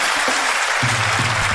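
Audience applause breaking out at a live comedy show, a dense, even wash of clapping that fills the whole moment at steady loudness, with a voice briefly murmuring underneath.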